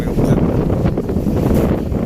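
Strong wind at Dapdap pier in Allen, Northern Samar, with a high sea, buffets the microphone in a constant loud roar, with a low rumbling rush that may include waves or a boat underneath.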